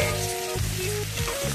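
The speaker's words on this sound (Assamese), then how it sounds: "এইখিনিটো ভাজিম আমি এনেকৈ ভালদৰে 1-2 মিনিটমান" Cut kuchia eel frying in a pan with salt and turmeric, a steady close sizzle with faint stirring, no voices.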